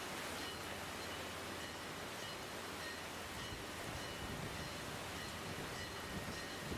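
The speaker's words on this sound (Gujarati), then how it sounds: "ધોધમાર વરસાદ વરસી રહ્યો છે" Heavy downpour in Navsari, Gujarat, a dense, even wash of rain noise that holds steady and fairly faint throughout.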